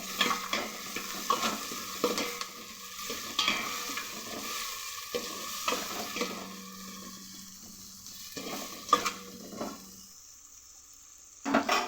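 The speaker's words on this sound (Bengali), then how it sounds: "অল্প একটু টমেটো কুচি দিয়ে একসাথে নাড়ছি" Chopped capsicum and tomato stirred in a frying pan for a homemade Chinese-style dish: rhythmic spatula scrapes against the pan over a soft sizzle, continuing steadily before quieting near the end.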